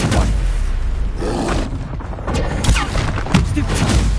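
Stupefy spell cast during combat in the video game Hogwarts Legacy: a dense, loud burst of magical blasts and booming impacts with steady clashing activity throughout and no clear pause.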